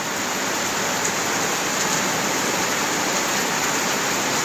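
Heavy rain driven by wind on a street in Kuala Lumpur, a dense, steady hiss of downpour filling the whole clip at constant loudness, with no voices.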